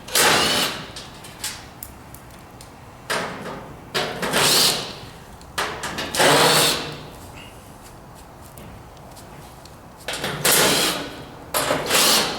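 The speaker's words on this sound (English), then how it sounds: "There's a series of 1/4-inch screws on the back here that we're going to go ahead and take off." Quarter-inch screws come out of a dryer's metal back panel in bursts of whirring, rattling driver noise separated by short quiet pauses.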